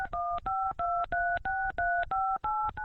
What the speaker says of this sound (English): pressing random numbers on his phone and then hanging up